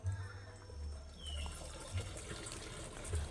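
Water is poured out of a used car battery set on a table, a faint, close trickle with soft low splashes that rise and fall.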